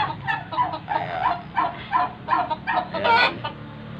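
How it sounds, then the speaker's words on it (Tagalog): Three brooding turkeys on a small mini farm give a rhythmic series of close, loud clucking calls, about eight distinct bursts in quick succession. "At ito yung tatlong pabo yan,"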